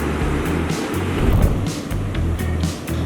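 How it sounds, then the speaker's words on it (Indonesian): Indian Ocean surf rolling onto Tanjung Setia beach, a steady broadband roar of breaking waves with periodic surges, close and loud, no voices. "Para peselancar berantusias menaklukkan ombak hingga setinggi 7 meter dan gulungan ombak hingga sepanjang ratusan meter."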